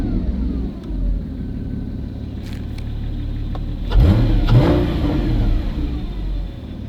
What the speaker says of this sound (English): I'm gonna do a couple of quick exhaust blips.